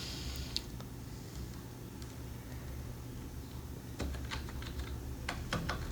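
Someone types C++ code on a computer keyboard: steady, soft key clicks that grow into a quicker cluster of sharper taps near the end, heard close over a low background hum, with no talking.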